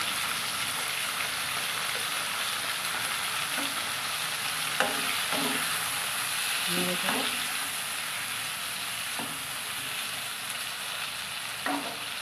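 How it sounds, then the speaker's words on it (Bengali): Panch phoron tempering spices and chilli fry in oil while being stirred for a tomato chutney. A continuous close sizzle hisses throughout, with occasional soft spatula scrapes and knocks against the pan. "ফোড়নগুলো ভাজা হয়ে যাবে, লঙ্কাটাও ভাজা হয়ে যাবে"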